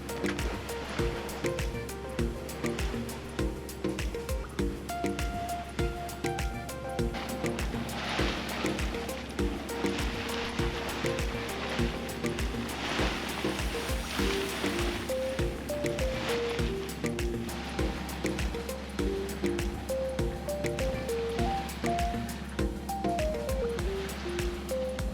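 A sailboat motor-sails with its head sail out, a steady low engine drone running continuously beneath washing waves and water rushing along the hull, with faint tonal sounds drifting above.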